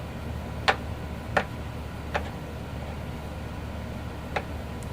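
A fret rocker rocks across a fret on a Taylor 214ce acoustic guitar, producing four sharp, isolated ticks spaced under a second apart against a quiet room.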